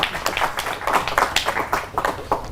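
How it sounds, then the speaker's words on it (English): Audience applause at an AI-driven leadership meetup, a dense run of hand claps from a crowd that keeps going steadily without a break. "round of applause to AI."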